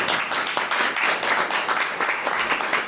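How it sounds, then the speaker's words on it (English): Continuous applause from a group, many hands clapping rapidly and fairly loudly throughout. "I'm clapping for you."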